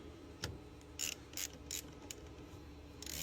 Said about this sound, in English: we're going to go ahead and put our 13 millimeter nut back on.